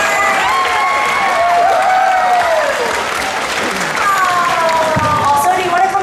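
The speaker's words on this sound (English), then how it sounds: "Give a round of applause for Edward." Loud, continuous audience applause and cheering fill a convention Q&A panel room, with scattered shouts and voices mixed through the clapping.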